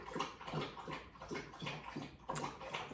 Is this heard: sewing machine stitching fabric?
no